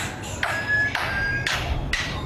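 A lyrebird imitating a hammer, giving four evenly spaced, sharp metallic taps with a brief ringing tone after each, heard over a low background rumble.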